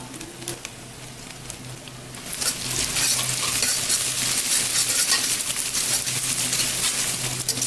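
Sliced onions fry in hot oil with cinnamon, cardamom, cloves and bay leaves for a mutton curry. A quiet sizzle with spoon scrapes and clinks turns into a louder, denser crackle about two seconds in as stirring continues, with no voices.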